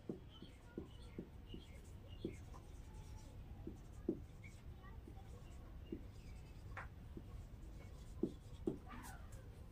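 Pen scratches on paper while working a math problem about matrix order, with soft irregular strokes and taps at close range, heard under a teacher's quiet explanation.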